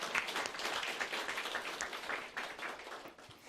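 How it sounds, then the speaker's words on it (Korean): A church congregation at a Sunday service claps together, a soft, fairly distant patter of many hands that holds steady for a few seconds and then eases off. "우리 하나님께 박수를 한번 쳐드립시다."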